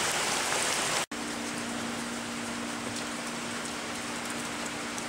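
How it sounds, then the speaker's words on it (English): Steady heavy rain pours down in a continuous broadband hiss, briefly cut off by a short gap, then resuming with a faint low hum underneath. "Let's go out in the rain."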